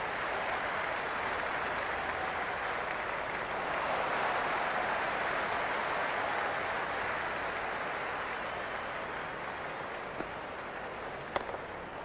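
A cricket stadium crowd at an India vs Pakistan match roars in a continuous dense wash of cheering and applause, broad and steady throughout with a few sharp claps near the end.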